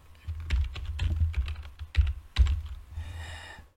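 Typing on a computer keyboard comes through as a close burst of irregular key taps and thumps, with a few heavier strokes and a short soft rustle at the end, and no one speaking.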